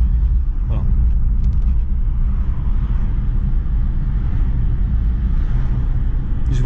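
An Aston Martin Rapide engine booms loud and steady through a tunnel, with deep enclosed rumble and a constant drone echoing off the walls, carrying on without a break.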